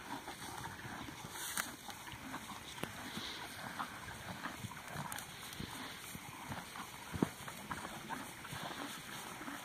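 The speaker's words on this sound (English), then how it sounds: "They sure are a good couple horses" A couple of horses walk outside a ranch front door, their hooves clip-clopping faintly and irregularly amid outdoor ambience and a low background rumble.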